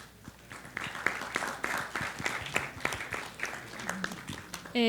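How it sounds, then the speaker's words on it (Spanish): Audience at a public forum on housing and rent in Mexico City applauding, scattered hand claps at moderate volume from a modest crowd, with a voice starting just at the end. "Sin duda le haremos llegar los aplausos a la maestra Rosalba"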